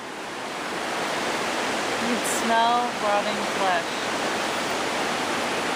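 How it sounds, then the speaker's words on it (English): A river rushes below a forest trail, a steady broad wash of flowing water that holds constant throughout while people talk close by. "The river's down there"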